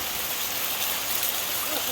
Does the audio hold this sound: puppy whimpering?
no